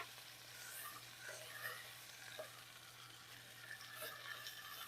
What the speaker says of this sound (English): And sear on this side.